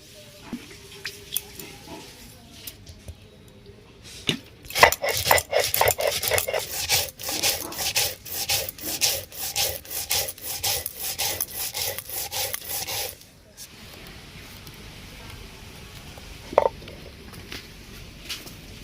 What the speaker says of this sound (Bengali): মশলাটা আমি এবারে বেটে নেব। মশলার মধ্যে দিয়েছি পোস্ত, রাই সরষে আর সাদা সরষে।